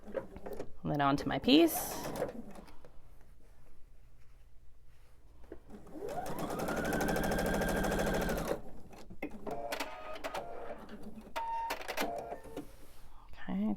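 A sewing machine makes a short, steady run of stitches across a scrap while piecing quilt binding strips, with clicks and handling noises before and after. A person talks over parts of it.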